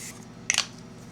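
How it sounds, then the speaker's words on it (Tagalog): A single short spritz of Dr. Althea 345 Relief Cream Mist facial mist: one brief, close hiss in the middle of an otherwise quiet room. "Spray ako niyan."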